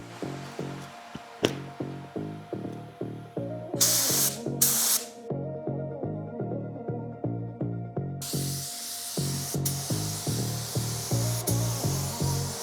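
A spray gun lays base coat on the masked hood and bumper of a 27-year-old car, giving a sharp, breathy hiss in two sustained passes, close and loud, over rhythmic background music.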